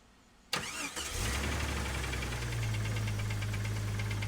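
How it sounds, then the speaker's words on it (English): A Jeep TJ engine cranks briefly, catches, and settles into a steady, loud idle close by, with a faint irregular knocking under the hum. "as you can hear, that engine, there's a little bit of a noise there"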